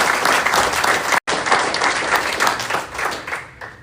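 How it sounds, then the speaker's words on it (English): Sustained audience applause at a community leadership luncheon in Clarksville, Montgomery County, a dense wash of clapping that cuts out for a split second, then resumes at full strength and tapers slightly toward the end. "Please join me again for giving them a round of applause."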